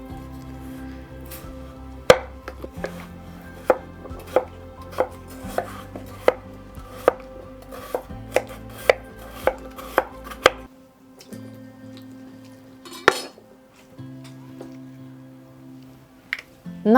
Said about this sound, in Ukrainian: Нарізаю картоплю кубиками